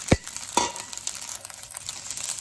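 Eggs go into a pan of Thai-style egg fried rice, giving a soft sizzle with a couple of brief stirring scrapes near the start, then a low steady frying hiss with no talk.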